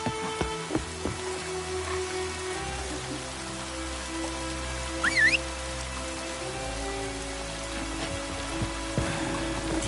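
Steady heavy rain pouring in The Witcher 3 game, a continuous dense patter on a boat with a low rumble beneath and a brief chirping cry midway, no voices.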